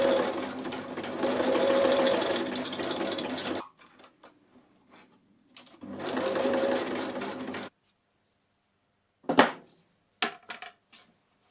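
A sewing machine stitches a webbing strap in two steady whirring runs of a few seconds each, with quiet handling clicks and knocks in the pauses between them.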